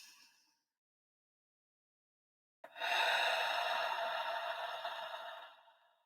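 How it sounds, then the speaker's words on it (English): After a short silence, one long, deep inhale of breath comes in close and fairly soft and lasts several seconds before fading out. "We're going to breathe in."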